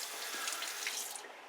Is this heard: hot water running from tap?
yes